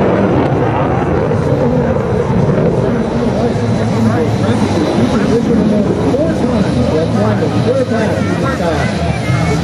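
An F/A-18F Super Hornet jet at an air show, a loud, continuous roar rumbling over a crowd while an announcer talks over it.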